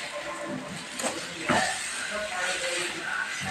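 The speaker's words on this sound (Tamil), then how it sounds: "தக்காளி நல்லா வதங்கிட்டோம்." Tomatoes with dried red chillies and rock salt sizzle and hiss in a pan for tomato thokku, a steady close frying noise throughout.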